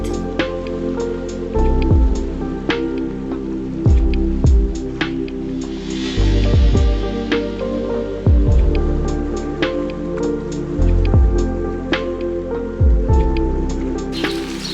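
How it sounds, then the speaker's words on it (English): Heavy rain pours steadily in Istanbul amid strong wind, a dense continuous wash with recurring low thumps and gusts, close and loud throughout with no talking. "So it is actually more than pouring rain."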